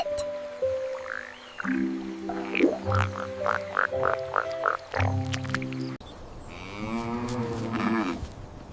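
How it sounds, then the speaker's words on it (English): A frog croaks in a rhythmic train of pulsing, buzzy calls, nearby and fairly loud, before a different drawn-out low call takes over at the end. "It's a frog. Ribbit."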